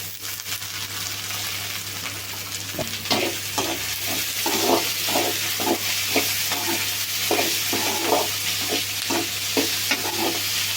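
Tomatoes sizzle steadily in a hot pan for a spicy crab fry while a utensil stirs and scrapes in quick repeated strokes, with a low hum underneath.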